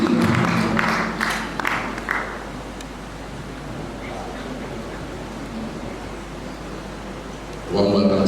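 An audience at a symposium claps to welcome an MC onto the stage. A dense burst of applause fades into a softer, sustained patter, then swells again at the end.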